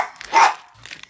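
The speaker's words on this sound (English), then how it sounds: "My dog is like, I want some steak." A single short dog bark, fairly faint and close, in a quiet indoor room, with a brief softer trailing sound after it.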